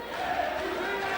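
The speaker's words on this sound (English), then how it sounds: "the crowd are going berserk for Eddie Delic" A boxing crowd roars for Eddie Delic, a dense sustained cheer with a rising chant-like swell, loud and close-packed for a brief moment, with a commentator talking over it.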